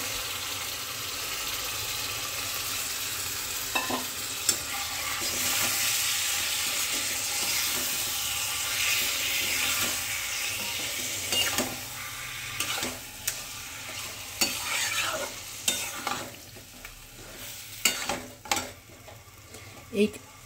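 Chicken pieces sizzle steadily in a pan of fried masala, giving a broad hiss with occasional sharp clinks and stirring knocks toward the end.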